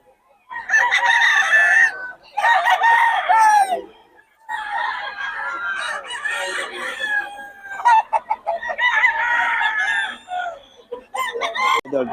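Roosters crow repeatedly in long, loud calls with clucking between them, likely at a small-time fowl seller's pen, and someone speaks faintly in the gaps.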